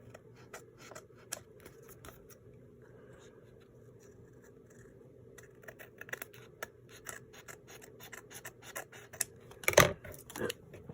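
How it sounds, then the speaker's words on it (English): Scissors trim paper for junk journal ephemera with quiet, close snips and light paper rustles, ending in a few sharper cuts. "I'm going to trim this off first."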